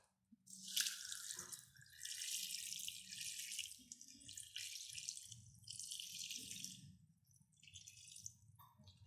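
Excess water is tipped off a bucket of wild clay slurry in several separate pours, each a close, gurgling splash followed by dripping, with brief pauses between them.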